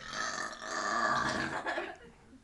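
A person lets out one long, loud, drawn-out burp lasting about two seconds, close up, trailing off at the end.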